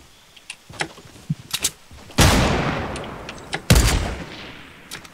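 Gunfire during a Fortnite match at Loot Lake, heard as two loud, heavy blasts with long ringing tails, preceded by scattered lighter clicks and taps.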